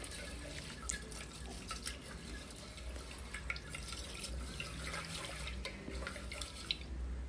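Running water from a kitchen tap splashes steadily into a sink as toor dal (pigeon peas) is rinsed, with faint drips and light trickling throughout and no talking.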